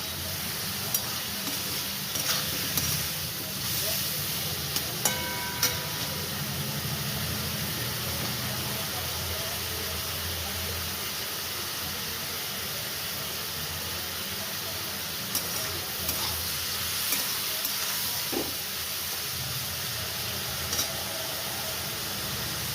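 Prawns fry in a pan for potol chingri, a continuous close sizzle and hiss with occasional utensil clinks and stirring scrapes scattered throughout.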